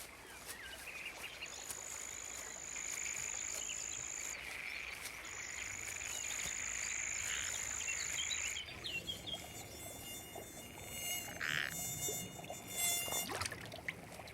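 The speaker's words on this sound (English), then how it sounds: "In this dry setting, frogs and insects gravitate to a temporary pool." Insects gather at a temporary pool in dry, sun-baked Provence, producing a dense, high, steady buzzing and whining. Thin sustained tones sit over continuous chirring that shifts midway, and any frog calls stay faint beneath it.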